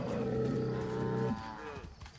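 A bull in the Far Cry 5 video game gives one loud, close, drawn-out moo lasting just over a second. It then trails off into fainter breathy grunts.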